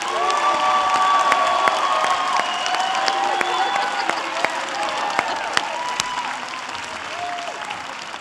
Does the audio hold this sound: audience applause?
yes